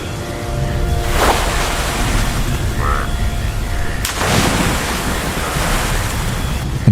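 Cartoon storm over a river at night, with a small wooden boat tied at the bank: a continuous loud roar of wind and rushing water, with swelling gusts around the start and middle.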